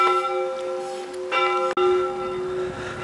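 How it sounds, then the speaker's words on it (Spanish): Church bells of the Chapel of Mary Magdalene on Lake Bled's island, Slovenia, ring loudly and close, their sustained metallic tones overlapping, with a fresh strike partway through. "Y aquí tenemos la iglesia, la capilla de María Magdalena. Con las campanas tocando."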